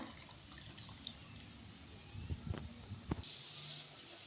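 Water poured into a cooking pot to dissolve tamarind trickles and splashes softly, with a few small drips, quiet and close.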